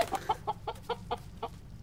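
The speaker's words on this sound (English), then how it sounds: "What a gorgeous rooster." Rooster in the video game League of Light 2, a rapid run of about eight clucking calls in steady rhythm, moderately close and fairly quiet, with no speech over it.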